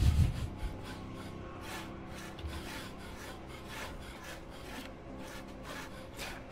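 Steady rasping saw strokes from the video game A Way Out, a continuous scraping texture of moderate loudness running throughout with no talk over it.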